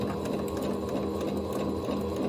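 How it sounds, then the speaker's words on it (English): Close sewing machine running steadily as it back stitches the side seam of shirred-waist pants through several fabric layers, a continuous even mechanical whir with no speech. "So I'm just gonna start with my back stitch."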